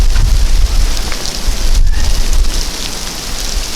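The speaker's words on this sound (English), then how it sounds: "Sleet and snowing and everything else out here." Sleet and snow mixed with rain fall outdoors around a derelict AMC Eagle, a steady close hiss of precipitation pattering on surfaces with a low rumble underneath, no voices.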